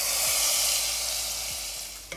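Red chili sizzles in hot oil as a tempering for dal with the flame turned off, a loud, close, dense hiss that slowly fades over a couple of seconds, ending with a light clink.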